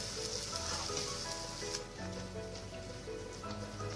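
Malpua batter frying in ghee in a pan over a low-to-medium gas flame, giving a steady, close crackling sizzle that runs without a break and with no talk.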